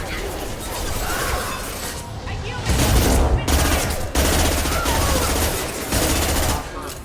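Sustained gunfire in a Mass Effect firefight, loud bursts of automatic fire with crashes and impacts rolling over each other, with shouted voices mixed into the chaos.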